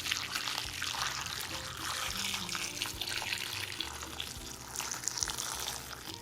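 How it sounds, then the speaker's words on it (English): Hot water pours steadily and loudly onto green beans for several seconds, a continuous rushing splash with no one speaking. "to your green beans, you're gonna add some hot water"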